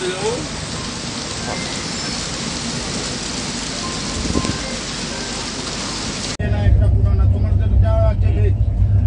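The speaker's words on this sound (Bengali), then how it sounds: "বাইরে মুষলধারে বৃষ্টি হচ্ছে" Heavy torrential rain pours outside at Siliguri Junction, a loud, dense, continuous hiss that abruptly turns muffled, with a low steady rumble underneath.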